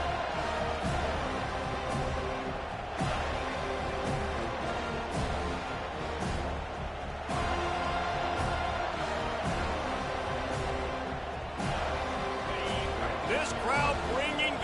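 Stadium crowd noise roars through a video game American football match, a constant loud swelling din with sharp bursts, under continuous play-by-play commentary.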